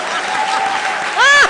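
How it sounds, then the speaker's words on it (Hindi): Studio audience applause at a TV comedy show, a steady dense wash of clapping throughout under a voice speaking, which rises briefly near the end. "माय गॉड, कवर अच्छा कर लेती है ताली"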